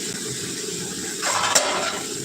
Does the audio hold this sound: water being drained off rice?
yes